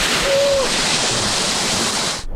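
Continuous broadband roar of a jungle waterfall on Moyo Island, Indonesia, loud and close, with no talking.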